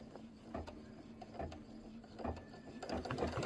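An embroidery machine sews a quilting stitch on a Kimberbell patriotic pillow, a quiet run of mechanical ticks and clicks over a low motor hum, with a few sharper clacks spaced irregularly throughout.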